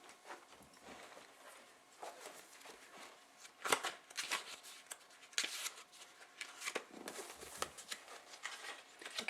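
Rumi Oracle deck cards by Alana Fairchild being shuffled close up: soft, uneven riffles and slaps of card stock, quiet with sharper bursts now and then, no talking.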